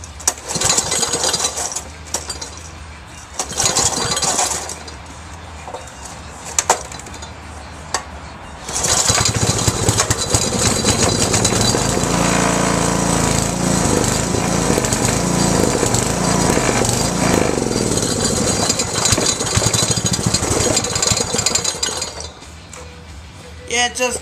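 An 8hp industrial Briggs and Stratton engine sputters unevenly at first, then settles into a loud, steady mechanical chatter for most of the clip, close by, with a few brief voices over it.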